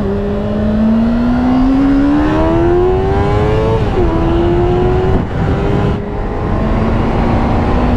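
A Honda CBR600F four-cylinder motorcycle engine revs loud and close, its smooth whine climbing steadily in pitch, dipping briefly at a gear change, then rising again under heavy wind rush.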